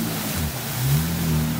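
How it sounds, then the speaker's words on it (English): A two-wheel-drive Toyota 4Runner pushing through deep swamp mud, its engine droning low and loud with a rising strain in the second half, water and mud churning around it. "Time for two-wheel drive 4Runner to go through it"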